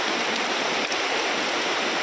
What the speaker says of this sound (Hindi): क्या तगड़ी बारिश पड़ रही है यार